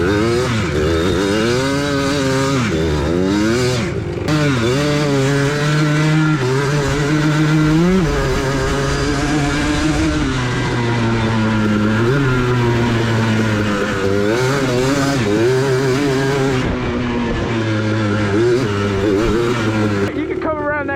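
A quad bike engine revs hard and rises and falls in pitch again and again while the rider spins donuts, loud and close, with a voice heard over it.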